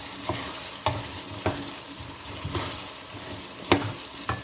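Potatoes and mongray frying in a spicy curry sizzle steadily in a pan, with a spoon stirring and scraping at irregular intervals, close and continuous, with no voices.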